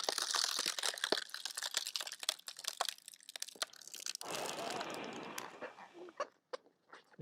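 A rubber balloon frozen stiff in liquid nitrogen crunches and crinkles in a run of sharp, close cracks and rustles, with a brief hiss of noise in the middle and quieter crackles trailing off.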